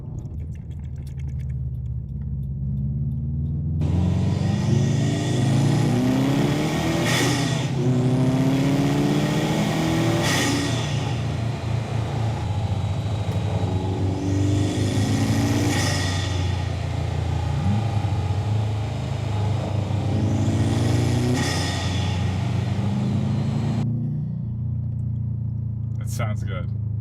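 A Subaru STI engine revs repeatedly, captured by a microphone in the engine bay, rising and falling in four strong sweeps over a steady idle rumble, loud and close throughout.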